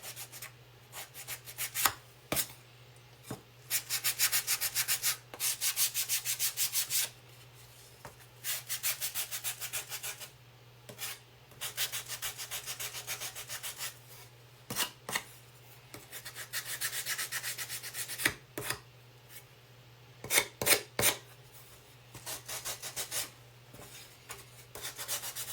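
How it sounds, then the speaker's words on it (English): Sandpaper rubbed by hand over a pumpkin's surface, in repeated bursts of rasping strokes separated by short pauses, close by, over a steady low hum. "sand it down a little bit more."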